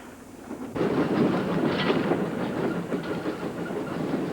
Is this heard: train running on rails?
yes